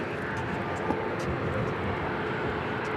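Southwest airliner on its takeoff roll at Dallas Love Field, a steady, loud broadband jet engine roar that holds throughout without talk.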